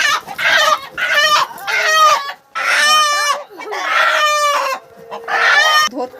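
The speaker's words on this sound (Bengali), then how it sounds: "একদম দেশি মুরগি" Desi village roosters and chickens cluck and crow loudly and close by, several calls in a row with harmonic crowing bursts and short clucks, with no other sound.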